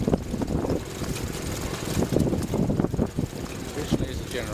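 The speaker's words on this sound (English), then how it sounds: "Here we've got a 1948 Stuart Turner R3M." A 1948 Stuart Turner R3M stationary engine, originally a generator engine and now driving a feed pump, runs at an outdoor show with a steady low chugging thrum, partly masked by wind noise and nearby voices.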